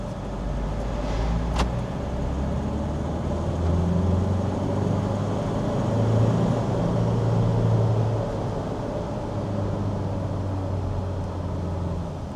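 A 2025 JAC T8 pickup with a turbo diesel engine driving along, its steady engine and road drone filling the cabin with a faint turbo whistle riding on top at a constant level.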